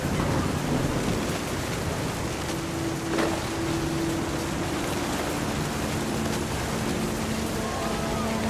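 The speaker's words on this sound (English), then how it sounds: "The thunder sounded much too close and full of angry power." A thunderstorm in the video game What Remains of Edith Finch, with steady heavy rain and low rolling thunder rumbling beneath it, continuous and fairly loud.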